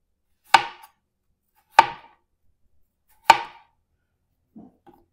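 A knife slices potatoes on a Val Cucina cutting board while the cook wears a cut-resistant glove. Three sharp, evenly spaced chops ring out close by, followed by a faint soft tap, with silence between strokes.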